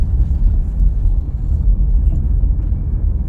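Traffic of heavy vehicles and cars on the Jakarta inner-city toll road, from the Tomang toll gate toward Cawang, forms a close, continuous low rumble of engines and tyres with no distinct single pass-by.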